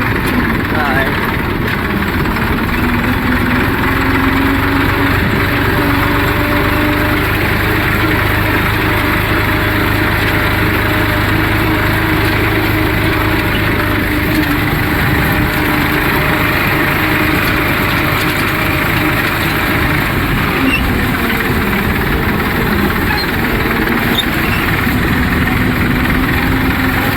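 Tractor engine pulling a land leveller across a farm field, a steady low diesel drone with idling-like vibration running continuously throughout, fairly loud and close, with a voice talking over it at times.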